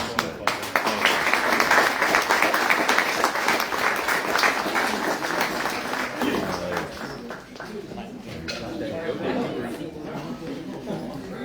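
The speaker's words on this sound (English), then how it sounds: "Let's give another round of applause." A crowd applauding steadily for several seconds, the clapping tapering slightly toward the end with some murmured chatter underneath.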